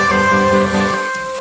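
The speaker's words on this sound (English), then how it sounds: "it gives it like a sort of a low cut filter and then some reverb" A future bass synth build runs through a low-cut filter with reverb added, so thin sustained chords ring out loudly and then fade into a short reverberant tail at the end, with no talking.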